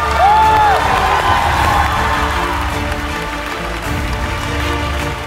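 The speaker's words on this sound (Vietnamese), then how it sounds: "Một tràng pháo tay" A studio audience on a Vietnamese TV game show cheers and claps, a loud sustained crowd roar with whoops, and a brief rising tone early on.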